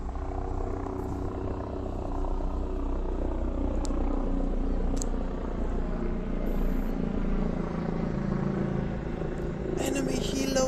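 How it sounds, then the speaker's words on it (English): Constant low rotor drone of an enemy helicopter flying overhead in a Pokemon Go game session, a steady rumble that holds for the whole stretch with a few faint clicks on top. "Enemy helo above!"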